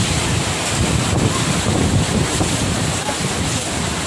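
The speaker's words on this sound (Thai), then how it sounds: "ลมแรงมากครับ" Strong storm wind roars and buffets the microphone in a steady, loud rush during a rainstorm at a house by an outdoor market, with no clear speech.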